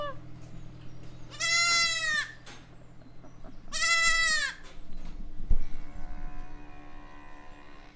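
Two loud, drawn-out goat bleats with a pause between them, then quieter farmyard sounds and faint rustling.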